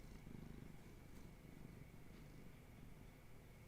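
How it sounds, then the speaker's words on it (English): A cat purrs steadily and continuously at close range, a low, soft rumble that holds throughout without pause. "He's purring."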